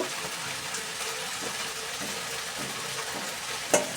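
A vegetable curry simmers in a covered pan, giving a continuous soft sizzle and bubbling, with a brief clink near the end as the lid is lifted.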